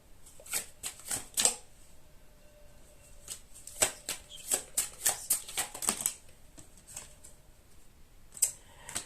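Tarot cards being cut and shuffled, bursts of crisp flicking and riffling with soft taps in between, close and fairly quiet, irregular in rhythm, with no talking.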